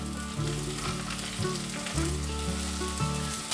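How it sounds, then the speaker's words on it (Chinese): Taro, tofu and pumpkin stir-fry in a hot pan with a continuous bright sizzle. Steady low tonal background music plays under the cooking sound. "大略翻炒后，"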